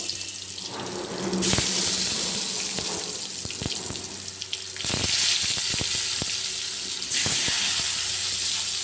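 Loud, steady sizzling and crackling of eggplant frying in hot oil in a kadai, swelling in bursts, with occasional utensil clinks and no talking.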